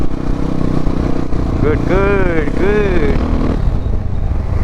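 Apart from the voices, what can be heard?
motorcycle with FMF exhaust, dB killer removed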